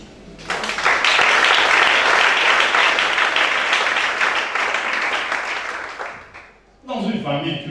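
Sustained applause from a church congregation during a worship service, loud and continuous for about six seconds before fading, followed by a voice speaking briefly at the end.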